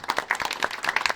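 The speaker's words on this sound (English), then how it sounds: "Everyone give Tom a round of applause." A small group claps for Tom during a tabletop podcast session, a quick patter of hand claps lasting about a second.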